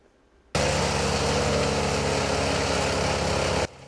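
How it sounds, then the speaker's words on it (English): Loud, steady roar of a wood chipper or chainsaw trimming palm trees in the Coachella Valley, starting abruptly, holding constant for about three seconds, then cutting off. "A cacophony of chippers and chainsaws."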